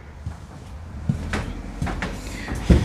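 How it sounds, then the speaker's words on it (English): A soft-closing drawer in a Jayco Pinnacle 38FLGS fifth wheel RV kitchen glides shut with quiet sliding rumbles, then a muffled thud near the end, heard close in a quiet room. "that is a soft closing drawer."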